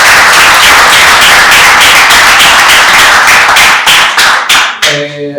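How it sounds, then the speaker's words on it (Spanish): Very loud, close applause from an audience of teachers and attendees at a school event, with distinct rhythmic clapping beats that thin out and stop, followed by a short musical tone at the end. "quiero un aplauso también especial para los docentes"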